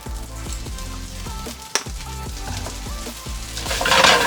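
Sesame oil sizzling hot in a pan of vegan fried rice, crackling and popping steadily with scraping stirs and one sharp clatter, the sizzle surging louder toward the end.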